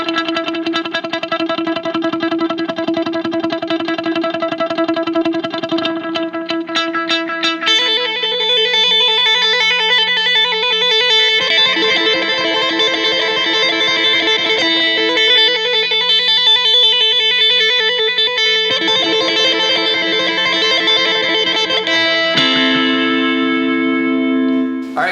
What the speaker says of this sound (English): have the slapback first, and then that feeds into an eighth note delay